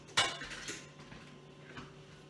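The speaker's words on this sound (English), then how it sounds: "now I'm just going to go ahead and add my beans" Rinsed canned beans go into a crockpot of green chili chicken enchilada soup, starting with a sharp metallic clink of a can or utensil against the pot, then a few faint soft knocks and scrapes.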